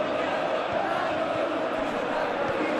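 Stadium crowd in the FC26 football game during a Roma versus Juventus match, a dense continuous roar that stays even throughout, with commentary voices running over it.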